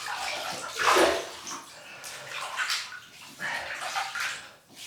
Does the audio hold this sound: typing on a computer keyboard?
no